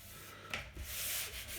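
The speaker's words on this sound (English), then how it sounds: "I want to just give them a sand" A short stretch of hand sanding on the wood of a small bookcase gives a soft, breathy rubbing scrape, close and fairly quiet, a couple of strokes with no talking.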